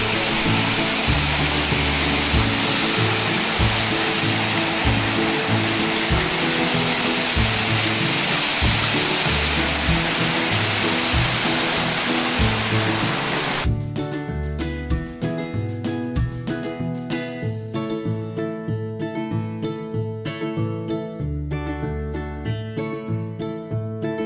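A hidden waterfall in Devrukh in the Konkan region roars steadily as a loud, continuous rush of falling water, later joined by music playing over it.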